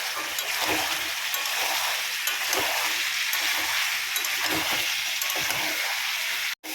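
Mutton pieces sautéing with chui and whole garlic cloves for a thin goat curry with large potatoes, a steady broadband sizzle with soft stirring scrapes throughout, cut by a brief dropout near the end.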